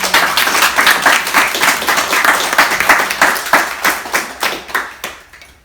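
An audience claps in a big closing round of applause at a volunteer certificate presentation in Croydon, loud and dense at first, then thinning into scattered separate claps before fading out.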